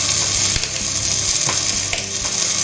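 Squid and chopped garlic dropped into a hot pan sizzle steadily and loudly, with a few sharp clicks of stirring and utensil contact over the continuous hiss, for a garbanzo and squid stew.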